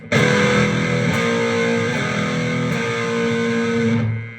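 Two distorted electric guitar notes sound together as a tritone in a heavy rock riff, a loud sustained chord re-picked a few times and held for around four seconds before it is cut off, with no voices.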